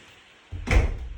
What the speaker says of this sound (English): I'm just going to have to go and shut that door because it's getting very loud